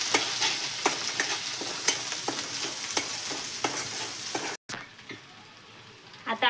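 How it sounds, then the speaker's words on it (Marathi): Coarse ground samosa masala fries and is stirred in a few ladles of hot oil, a steady sizzle broken by regular scraping strokes of a spoon, close and fairly loud, with a brief cut partway through. "चांगला तळून घ्यायचा."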